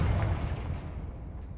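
A Confringo spell explodes in the video game Hogwarts Legacy, a single dense booming burst that is loud at onset and rumbles off over a second and a half, with no talking.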